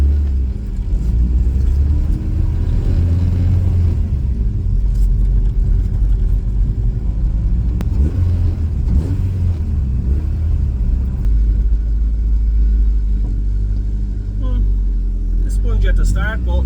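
A Mini fitted with a Honda VTEC engine drives on a short road test, heard from inside as a loud, continuous low engine rumble with revs rising and falling.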